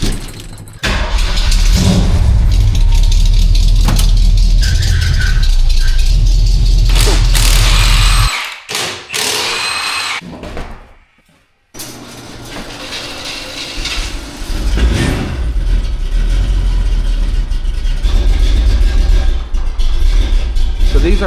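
A shop truck engine idling and revving up close, a loud low rumble that cuts out briefly, then resumes steadily under a voice.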